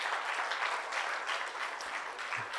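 Steady applause from a church congregation, a continuous wash of clapping at moderate distance with no voices over it.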